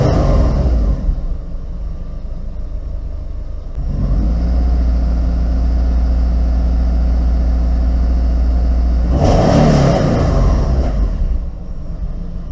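Subaru EJ257 SOHC car engine idling at around 700 RPM, heard close up as a loud, steady low rumble with a tonal hum that holds throughout, broken by brief rustling handling noise at the start and near the end.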